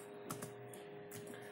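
A computer keyboard clicks in a short, faint burst of a few quick keystrokes, then another small cluster after a pause, with no one speaking.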